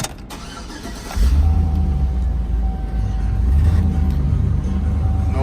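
A 2004 Chevrolet SSR engine starting up: a short starter crank followed by the engine catching into a loud, deep, steady idle that stays close and even to the end.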